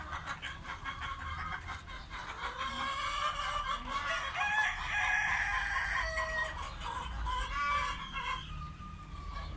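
Several Australorp hens cluck and chatter together at moderate distance, with a rooster crowing partway through over a low background hum.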